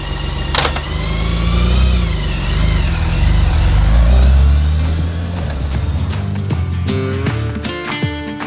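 Motorcycle engine while riding on a road in Utah, a steady mid-pitched drone that rises and falls with throttle changes, with wind rush throughout and a sharp knock early on.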